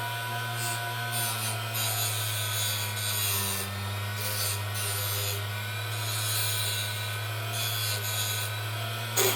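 Gentle grinding wheel smoothing the edge of a handmade ring, a steady motor hum with a soft continuous rubbing hiss from the piece pressed against the wheel, close and even.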